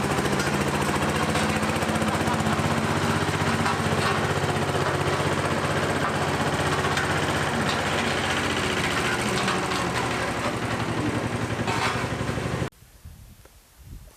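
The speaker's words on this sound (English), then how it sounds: "Look at that, 2-cylinder diesel, hand start." A small 2-cylinder hand-start diesel engine runs with a loud, steady, rapid chugging clatter that cuts off abruptly near the end, leaving a quiet room tone.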